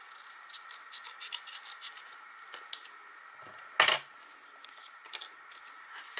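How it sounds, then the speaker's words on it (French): Scissors snip and scrape through a paper craft card cut in half, with light scratchy cuts and handling noises and one louder close crunch partway through, no speech. "Je vais la couper en deux également."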